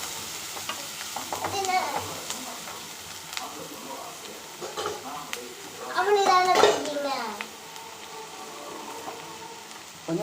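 Mushrooms sautéing with rock salt in a pan give a steady sizzle with frequent stirring scrapes up close, and voices are heard in the background.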